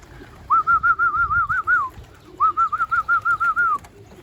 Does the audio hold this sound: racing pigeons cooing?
yes